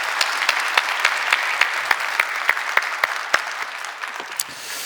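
A Korean church congregation at a New Year Sunday service claps in thanks to God, steady rhythmic unison claps over a softer bed of scattered applause that loosens toward the end.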